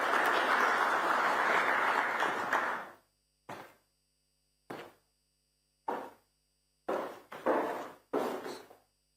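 Audience at an African Union ordinary session conference breaks into sustained applause that stops abruptly. Several short, sharp knocks or thuds follow, separated by silence, in a quiet hall.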